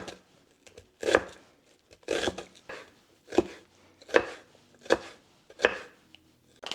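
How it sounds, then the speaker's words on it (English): Knife dicing onion and jalapeno on a cutting board: about eight crisp chopping thuds at a steady, unhurried pace, close and clear with no talking. "We're going to be dicing these, and we're going to try to keep them all about the same size."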